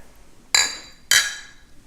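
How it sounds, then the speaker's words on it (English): Two glasses of beer clink together in a cheers toast, two bright, close, ringing taps about half a second apart in a quiet room. "So let's cheers."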